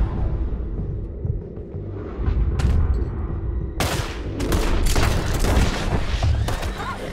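A Red Dead Redemption 2 shootout, with several sharp gunshots in quick succession, loud and close, over a low rumbling background where some voices are faintly heard.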